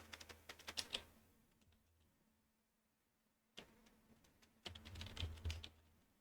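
Bursts of rapid computer keyboard typing, close and crisp, entering network switch configuration commands, separated by a quiet pause before another flurry of keystrokes.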